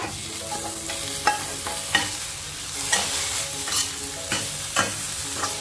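Cooked drumstick (moringa) pods for a Kerala thoran are stirred in a hot pan: a constant sizzle is punctuated by roughly six regular, sharp scraping clacks of a spoon against the pan, with no speech.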